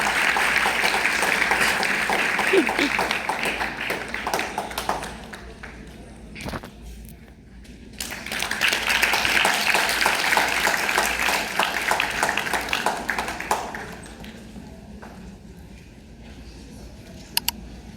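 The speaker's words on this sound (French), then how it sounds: "Applaudissons." Warm applause from an audience at a French-speaking ceremony, dense and sustained for several seconds, dipping briefly, then swelling again before fading toward the end.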